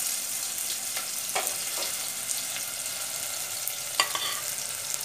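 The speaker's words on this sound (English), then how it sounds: "We have to fry the onions till golden brown." Onions fry and crackle in a pan with a few scraping stirs, a steady close sizzle running throughout and no voices.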